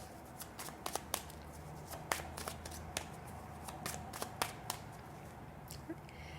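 Tarot cards riffled and shuffled in the hands for a Virgo monthly reading, a run of soft papery flicks and taps laid down one after another, close and quiet against a faint room hum.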